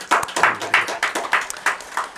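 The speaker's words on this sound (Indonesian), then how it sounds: "Tepuk tangan ya." Hands clap in a steady rhythm during an Indonesian podcast recording, about seven sharp, close claps over two seconds, with no talking.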